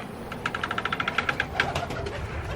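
Doves cooing inside a zoo's pigeon house, a quick run of soft, evenly spaced calls at moderate distance over steady background hiss.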